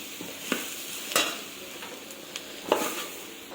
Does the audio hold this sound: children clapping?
no